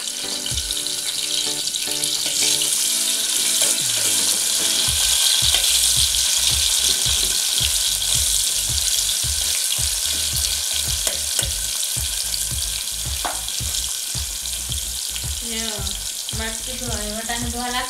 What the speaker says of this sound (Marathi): कांदे थोडेसे भाजून घ्यायचे